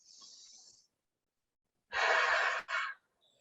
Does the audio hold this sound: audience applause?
no